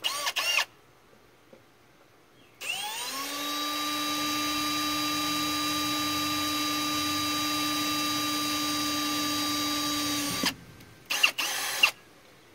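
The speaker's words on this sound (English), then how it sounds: "So I need to drill it this little piece." A power drill whirs steadily at a high, even pitch for several seconds while drilling a small part for an RV screen door cross bar, then cuts off, with a few brief clicks and handling noises around it.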